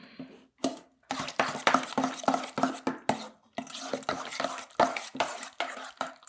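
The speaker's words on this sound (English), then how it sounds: "To that, we're going to add 4 eggs. And we're just going to mix that up right now." Ricotta cheese and four eggs are mixed in a bowl for an Italian Easter meat pie, making a series of quick, close, rhythmic stirring and scraping strokes with brief pauses between bursts.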